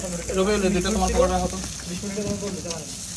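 Barbecue meat sizzles loudly and close up while pieces are flipped, with busy crackling over a low rumble. Faint voices and other sounds mix in.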